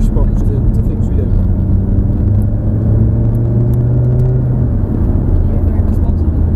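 Lamborghini engine heard from inside while driving, the throttle eased on and off so the steady rumble swells and falls in pitch, with a voice talking over the drone.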